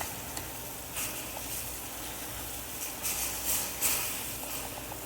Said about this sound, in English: I've been stirring them frequently.